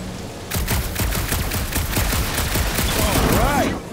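Rapid gunfire at a gunked-up reactor in Marvel's Guardians of the Galaxy on PS5, a dense, loud burst of shots sustained for several seconds with whirring mechanical tones rising near the end.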